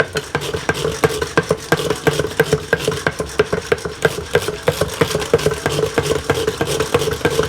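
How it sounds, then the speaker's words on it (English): Wire whisk rapidly beating pineapple juice and condensed milk in a bowl for Jamaican pineapple punch, a steady run of quick, evenly spaced clicks and sloshes against the bowl, close and continuous. "So we're just going to whisk this through thoroughly, so that all our pineapple juice and our condensed milk is combined together."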